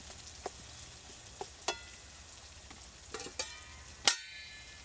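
Onion, tomato and cumin paste fry in a pan with a soft continuous sizzle, punctuated by several sharp clinks and scrapes of a utensil, the loudest near the end.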